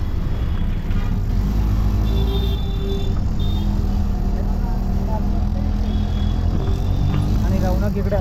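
A shared auto rickshaw drives along a road in Ambernath, Thane district, its engine and road noise giving a steady, loud, unbroken rumble, with faint voices now and then underneath.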